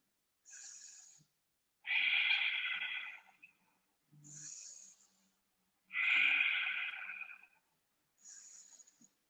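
Audible breaths in a yoga session: three forceful exhales and short inhales alternate in a slow, regular rhythm, close and clear against silence.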